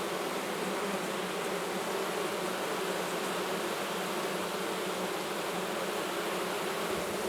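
Honey bees at a hive during swarm control, their dense, steady buzzing filling the air continuously and up close, with no voices.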